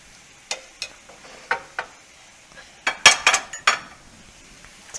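King trumpet mushrooms and dried chili are stirred in a pan with a utensil, a series of sharp scraping clinks and knocks, scattered at first, then clustered in quick bursts over a faint background sizzle.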